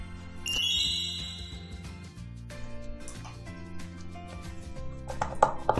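A nail gel curing lamp gives a short electronic ding early on and a few brief tonal beeps near the end, heard while curing base gel for gold-foil nail art over steady background music.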